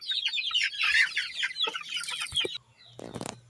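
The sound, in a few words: native chickens and chicks in a brooder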